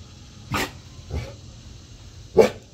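A dog, a male pet, barks three times indoors in the morning, with single spaced woofs of moderate loudness and the last bark the strongest, with no talking over them.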